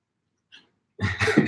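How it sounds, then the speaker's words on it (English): A single soft hiccup-like catch comes first, followed by a louder burst of throat and breath noise, close up and with no talking. "Hiccups."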